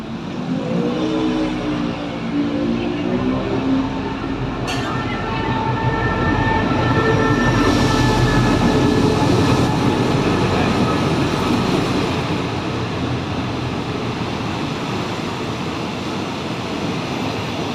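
A passenger train in Thailand, on the line toward Nakhon Pathom, runs along its tracks with a loud, continuous rumble and rattle heard from close by. The noise stays steady throughout, with no clear talk.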